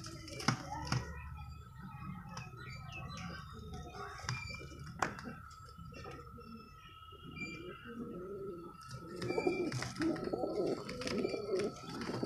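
Racing pigeons coo softly and intermittently nearby, low throaty calls mixed with wing flutters, scattered clicks and faint background chirps.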